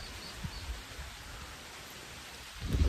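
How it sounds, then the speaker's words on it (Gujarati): Steady rain falls as a soft, even hiss of drops, fairly faint and continuous outdoors, with a low rumbling thump rising at the very end. "ગાય અત્યારે વરસાદ ચાલુ થઈ ગયો"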